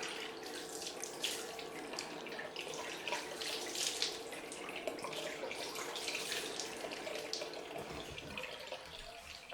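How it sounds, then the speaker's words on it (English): Tap water runs steadily into a sink as a safety razor is rinsed under it, a close, continuous splashing flow with slight fluctuations as the blade moves through the stream. "let's wash this off."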